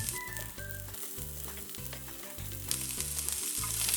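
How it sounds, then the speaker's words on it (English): Chopped onion hits a hot pan of frying broccoli pieces, setting off a loud, steady sizzle that grows brighter toward the end, with a faint tonal backing underneath. "So from there, add your onion."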